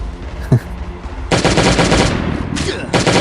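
Rapid automatic gunfire bursts in the zombie survival video game Last Day On Earth, loud and close, with a single shot early on, then sustained rattling fire after a short gap.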